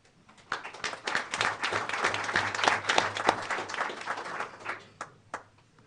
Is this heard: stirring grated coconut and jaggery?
no